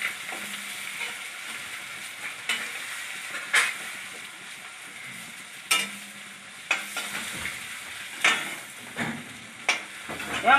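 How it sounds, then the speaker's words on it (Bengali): Prawns fry in a pan with a steady close sizzle and hiss, broken by repeated scraping strokes of a spatula stirring at irregular intervals. "চিংড়ি মাছ খুব কড়া ভাজে দিতে নেই, ওর গায়ের একটা যে টেস্ট আছে ওইটা অল্প ভাজা দিলে লাগে।"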